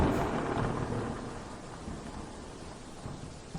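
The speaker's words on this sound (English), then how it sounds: "that has like thunder and lightning like this" A video game thunderstorm: steady, dense rain hiss with a low, rolling thunder rumble, continuous and fairly quiet throughout.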